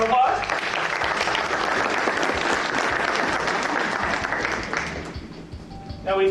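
Audience at a real estate seminar during a wholesale houses bus tour in Indianapolis breaks into steady, full applause that holds for about five seconds before thinning out.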